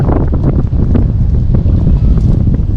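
A heavy, booming wind from a storm on the coast buffets the microphone continuously, loud and low with gusty fluctuations and no voices.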